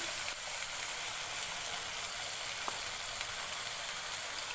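A constant, crackling sizzle of green chili and coriander paste frying in a hot pan, steady and close, with a faint clink partway through.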